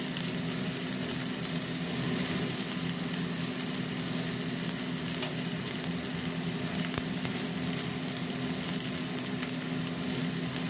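Tomatoes fry in a pan with a continuous, even sizzle and crackle, close and steady throughout, with a low hum beneath and no voices.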